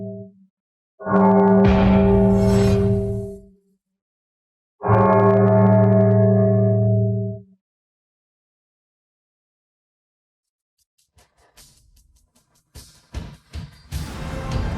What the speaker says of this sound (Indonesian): Siapa yang membunyikan lonceng?